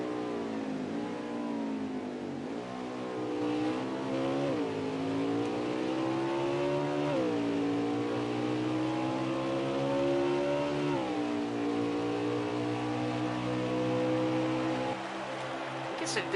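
A race car engine in a racing game at the Charlotte Roval, droning steadily with repeated rising revs as it climbs through gears, dips and climbs again through corners, loud and continuous from start to finish.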